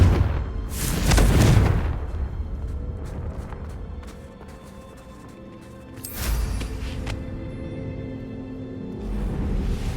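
A Confringo blasting curse explodes in Hogwarts Legacy, giving a heavy boom early on and a second burst a few seconds later, both over a rumbling game soundscape.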